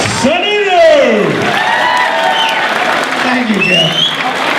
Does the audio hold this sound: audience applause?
yes